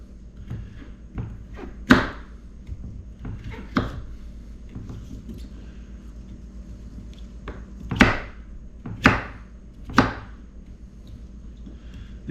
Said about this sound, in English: You're just trying to get it all chopped up.